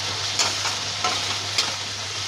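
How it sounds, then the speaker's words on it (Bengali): Spice paste for an egg and soybean curry sautés in a pan, a steady sizzle with a few scraping stirs of a spatula and a low hum in the background, no talking. "তার মশলাটা কষাচ্ছে, মশলাটা খুব ভালো করে কষাবো"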